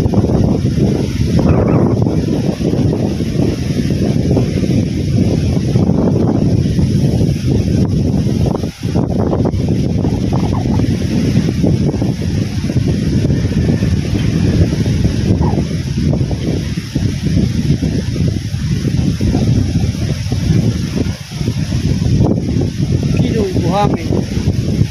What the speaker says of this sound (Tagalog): Ayan, lakas kasi ng hangin. Malamig po ang hangin.